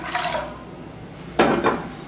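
Water poured from a vessel into a cooking pot for wheat rava pongal, two short splashing pours, the first softer and the second louder and closer, with a quiet gap between them.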